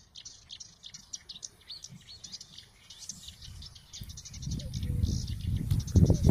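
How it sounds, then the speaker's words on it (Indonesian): Small songbird giving a repetitive, monotonous chirping song of short, evenly repeated high notes, steady and fairly close, with a low rumbling background that grows louder toward the end. "Burung seperti ini biasanya hanya memiliki suara kicauan berulang-ulang dan"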